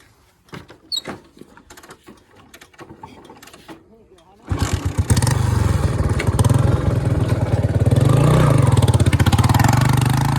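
An off-road motorcycle on a hill climb is kicked or cranked with sharp clatters, then the engine catches and runs loud and close with a rapid throbbing idle that swells as the throttle is opened.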